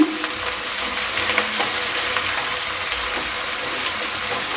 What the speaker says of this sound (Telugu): ఫ్రెష్గా దంచుకున్న అల్లం తెల్లగడ్డ పేస్ట్ అండి వేసి అయితే కలుపుకుందాం